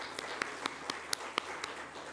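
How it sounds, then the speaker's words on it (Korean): A church congregation claps to welcome a visiting traveler during a Sunday morning service in Chile, a quiet, sparse scattering of individual claps at uneven intervals in a hushed room. "우리 잠깐 자리에서 일어나시면 박수로 환영하도록 하겠습니다"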